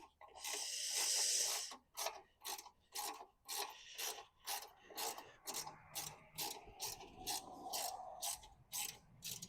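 A ratchet cranks a bolt tight on a fatbike grooming sled, its rapid clicking strokes coming in a steady series of short bursts, close and fairly loud, after an opening stretch of harsh rasping.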